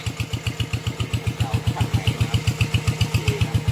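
A Thai golden farm tractor engine, run in a paddy field, chugs at a fast, even pulse from close by. The beat stays loud and steady throughout.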